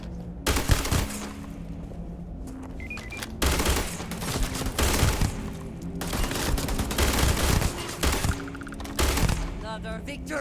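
Rapid bursts of gunfire in the video game Starfield, loud and close, coming in repeated volleys separated by short gaps, with electronic game tones and a voice talking in places between them.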